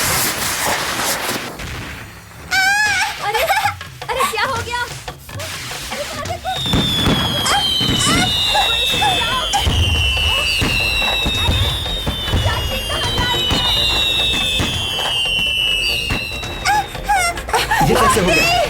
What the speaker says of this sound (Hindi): अरे भागो, पटाखे फूट रहे हैं। जान बचाओ।